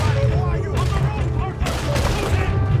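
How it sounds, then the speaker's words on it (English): Rapid bursts of gunfire and booms crackle from above in Red Dead Redemption 2, dense overlapping shots amid a loud game mix, with a voice talking over them. "Ada nembak dari atas"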